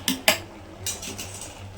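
A ladle scoops half-cooked rice into a biryani pot for homemade chicken biryani, giving two quick metallic clinks close by, then softer scraping and shuffling with a low steady hum underneath.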